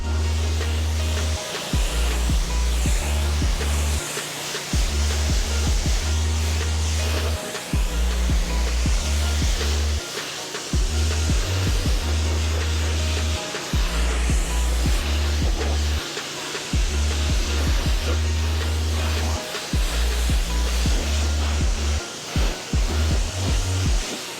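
A pressure washer rinses a car in a loud, steady hiss, its motor droning in on-and-off pulses as the trigger is squeezed and released repeatedly.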